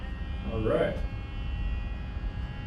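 A Trio Vino wine preserver's vacuum pump runs as a low, steady electric buzz, heard up close, with a brief spoken interjection over it near the start.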